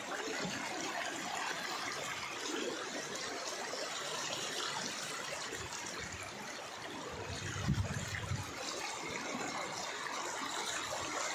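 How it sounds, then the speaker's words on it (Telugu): Floodwater from heavy rain flows into a house, a soft, steady rushing and trickling wash that is fairly faint and constant, with a brief louder splash partway through. "చూసారు కదా ఎలా వస్తున్నాయి నీళ్ళు"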